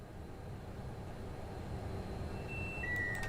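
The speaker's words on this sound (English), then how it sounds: "The tilt alarm will sound for a second time." A tilt alarm sounds in a train cab in Train Sim World 5, with a steady electronic tone starting late over a low, constant cab rumble.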